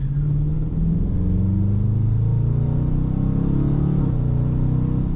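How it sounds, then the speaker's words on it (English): A 2026 Dodge Challenger SRT Hellcat V8 accelerating, its deep engine rumble loud and close, pitch climbing steadily through a gear with a brief shift near the end. "And then one last acceleration."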